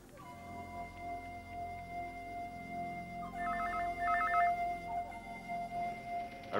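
A telephone bell rings twice in a quiet domestic room, short warbling trills heard faintly behind a low steady hum.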